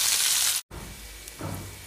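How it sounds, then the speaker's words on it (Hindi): Chopped onion frying in a pan for okra curry gives a soft, steady sizzle up close, broken by a brief cut and a light stir or clink. "प्याज को भी भून लेंगे हम।"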